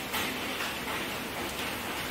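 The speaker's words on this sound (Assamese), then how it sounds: "বৰষুণটো ইমান বেয়াকৈ দিছে" Heavy rain pours down steadily as a dense, even hiss with no pauses, heard on its own with no voices over it.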